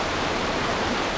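A river flows along its bank on a cold, drizzly morning in a rural village in an Indonesian national park, making a steady, even rush of water with no other sounds.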